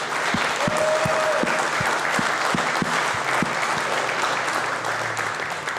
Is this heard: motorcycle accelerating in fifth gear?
no